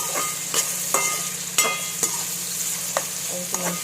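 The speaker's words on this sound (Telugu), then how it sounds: "అది వేగిన తర్వాత ఆనియన్స్ వేసేయండి." Onions frying in hot oil in a pan for chicken fry, a steady close sizzle with a soft stirring scrape and several sharp crackling pops spaced through it.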